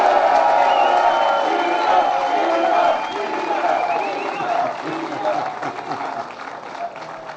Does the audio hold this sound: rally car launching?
no